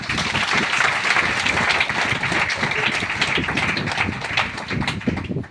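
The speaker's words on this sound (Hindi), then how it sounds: "डिएक्सन के लिए जोर हाथ ताली" A crowd claps loudly and continuously, a dense wash of applause that holds steady for several seconds before tapering slightly.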